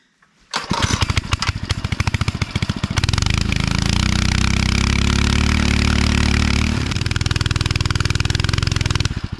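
Posthole auger motor starting up and running loud and close, a buzzing small-engine drone that bogs and labors steadily for several seconds with the bit stuck in the ground.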